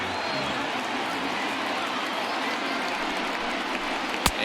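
Crowd cheering in the baseball video game MLB The Show 20 during a Rockies vs. Reds game: a dense, steady roar of noise with a sharp click near the end.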